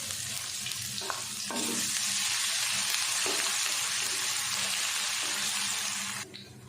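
Ginger and garlic sizzle loudly and steadily in a hot pan with browned onion, with a few stirring scrapes and clinks near the start and end.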